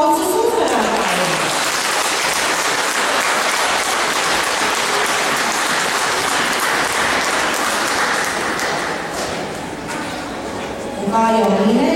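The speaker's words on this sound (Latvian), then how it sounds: "Lūdzu, aplausus uzvarētājiem!" An audience at a children's sports award ceremony gives the winners a long, dense round of applause. Loud clapping fills about ten seconds, then fades, and a voice over a loudspeaker talks at the start and end.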